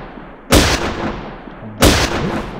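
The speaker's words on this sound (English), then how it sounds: "And then hopefully these two should start shooting at each other." Two loud gunshot blasts ring out as characters in a video game fire at each other. The shots are sharp and close, about a second and a half apart, and each is followed by a rumbling decay.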